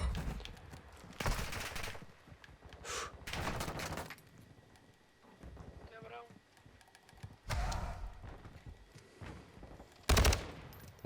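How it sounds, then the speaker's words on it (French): Rapid automatic gunfire from the video game Modern Warfare 2 comes in several loud bursts between quieter stretches, mixed with other in-game effects. "En espérant qu'il ait entendu les tirs."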